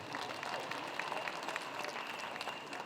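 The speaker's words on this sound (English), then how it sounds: "So let's give Riley a round of applause" An audience gives dancer Riley a round of applause at a Lumbee cultural presentation, an even, sustained patter of many hands clapping, moderately distant.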